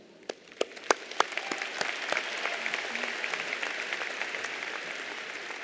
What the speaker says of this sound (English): one final round of applause for all of these great servants of this wonderful university